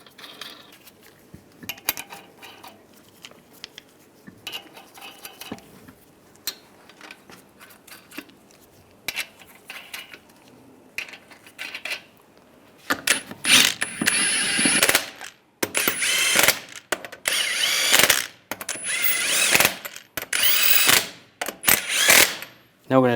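Lug nuts being threaded onto a wheel on a 2007-2013 Chevrolet Silverado 1500, heard as scattered metallic clinks and ratcheting clicks, sparse and quiet at first, then dense and louder.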